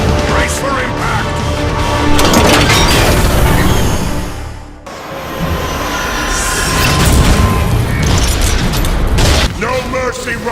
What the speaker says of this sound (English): We're taking heavy fire! Brace for impact!